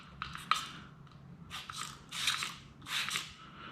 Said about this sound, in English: I'm just going to do 2 sprays directly into this applicator pad